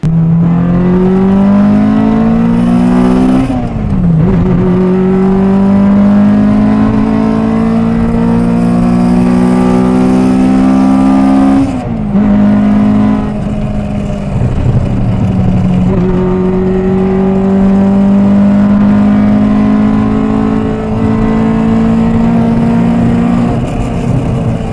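A modified Honda Integra DC2 SI with a Type R engine swap drives and revs hard, its loud engine note climbing steadily through the gears with a few sharp drops at the shifts, continuous and close throughout.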